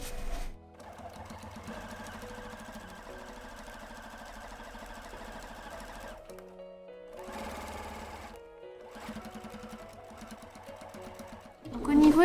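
A sewing machine stitches through thick fabric layers while making a slate pouch, its rapid mechanical chatter running in bursts with short pauses between them, close and clear.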